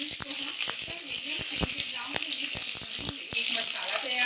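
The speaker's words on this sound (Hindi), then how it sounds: "चटकने की आवाज़ आने लगी है।" Crackling and sizzling of onion and green chilies frying in hot oil in a pan while cooking a lauki masoor dal sabzi, with irregular sharp pops scattered over a steady hiss, loud and close, no talk.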